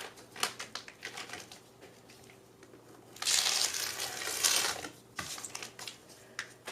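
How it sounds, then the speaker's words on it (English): A sharp rotary cutter slices through a woven grain bag, giving two short raspy, crunchy cutting passes amid faint light handling rustles and taps, quiet and close. "Rotary cutter, be very careful, it's very sharp. And so I'm going to start by just cutting off the bottom."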